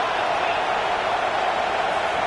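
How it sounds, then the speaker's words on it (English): Crowd roar in an American football video game, a continuous hissing wash of stadium noise that holds level and fairly loud throughout the short stretch. "Decibels rising as the crowd gets behind this defense on 3rd down"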